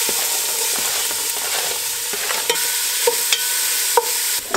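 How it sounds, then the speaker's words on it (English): Onions hiss and crackle in olive oil in a warm pan, a loud dense sizzle that runs throughout, broken by several light stirring clicks. "Little olive oil in with the onions."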